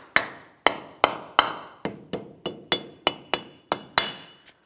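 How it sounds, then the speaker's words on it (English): A rubber mallet taps a protective cover into place on the front steering knuckle of a 2007-2014 GMC Sierra 2500 HD, giving about eleven sharp, close, evenly spaced knocks with a ringing metallic edge, alone without talk. "We'll tap this in place using a rubber mallet."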